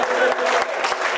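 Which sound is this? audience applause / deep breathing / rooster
audience applause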